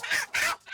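A country chicken clucks twice up close, short squawky calls with a brief gap between them.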